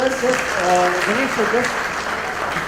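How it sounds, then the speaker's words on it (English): Applause from a conference audience after a panel discussion in Mumbai rises and holds while voices talk over it, a dense wash of clapping fairly close. "A big round of applause for the panel."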